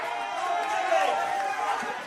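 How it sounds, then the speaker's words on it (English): Crowd at a Great Northern Football League match between Railways and Chapman Valley, a continuous broad roar of voices and noise throughout. "the crowd getting involved this afternoon"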